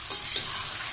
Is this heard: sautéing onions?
yes